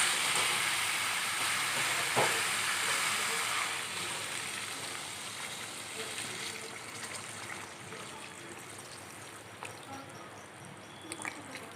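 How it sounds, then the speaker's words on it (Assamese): Water poured into a pan of frying chicken and potatoes sets off a steady, broad sizzling hiss that fades gradually over several seconds, with faint clinks in the background. "এতিয়া মই ইয়াতে দি দিম পানী"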